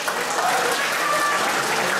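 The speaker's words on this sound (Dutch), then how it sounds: "mag ik een applaus voor deze twee jongens?" A crowd at a fight event applauds the two fighters after their bout, a steady, fairly loud wash of clapping and crowd noise with faint voices mixed in.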